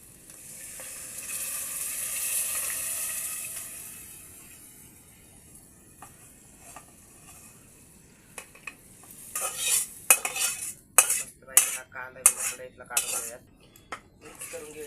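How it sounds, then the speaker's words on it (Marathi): Cooked chicken tipped into a pot of fried masala and stirred for a curry, with a soft sizzle first, then a run of sharp metal spoon scrapes and clanks against the pot, close and loud, no talking. "तर ना आपण आता आळणी शिजवलेलं चिकन आहे ना हे घालून घेऊयात."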